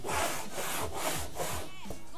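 A table saw rips through wood on a crosscut sled, giving a loud, steady sawing rasp with rhythmic surges as the blade bites, close up and with no talk.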